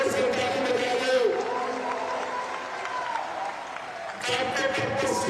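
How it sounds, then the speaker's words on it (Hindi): Crowd at an election campaign rally in Maharashtra bursts into loud, sustained applause and cheering, clapping dense from start to end and swelling again near the close. "जोर से ताली बजा दो"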